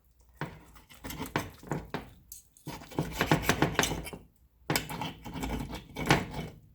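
A spoon cuts through a banana steak on a plate, giving repeated scraping clinks of metal against dishware in short bursts with pauses between them.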